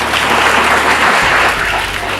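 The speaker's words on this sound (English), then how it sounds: "A round of applause." An audience at a Nigerian student debate on lowering the voting age to 16 applauds a debater, giving a dense, steady wash of clapping hands that fills the whole clip at close range with no voice over it.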